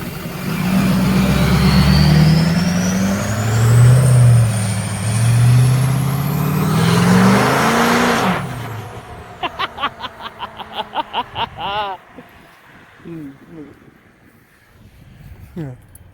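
A Ford LML diesel pickup truck nicknamed Sharky, out in rainy weather in Mexico, roars loudly under acceleration, then gives a rapid series of sharp bursts and softer rumbles as it idles down.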